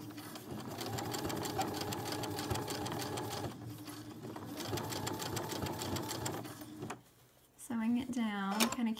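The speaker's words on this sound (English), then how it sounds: "So I've got my sewing machine here" A sewing machine runs in steady bursts while stitching a pocket seam on a pair of joggers, its rapid needle rhythm pausing briefly between runs; near the end the machine stops and a person speaks.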